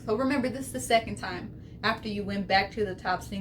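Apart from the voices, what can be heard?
None of the usual background noises is heard.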